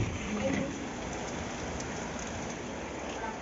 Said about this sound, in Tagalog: it's insanely raining hard